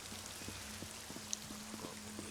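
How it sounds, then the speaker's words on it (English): Rain falls from a magical spell cloud in the Elder Scrolls Online game, a soft, steady hiss of drops under a faint low hum, with scattered light patters. "There's a cloud in the middle of this thing just raining in here"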